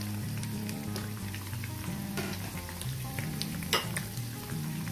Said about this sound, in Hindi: और इसको स्टर फ्राई करना है जस्ट फॉर 1 मिनट